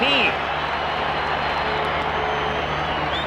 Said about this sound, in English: So the crowd tries to come to life